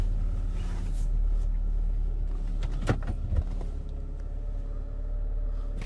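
Inside a Saab 9-3 pulling out and driving on a city street, a low steady engine rumble fills the cabin, with a couple of brief clunks and whirring mechanical sounds over it.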